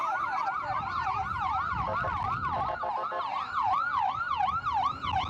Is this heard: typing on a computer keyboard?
no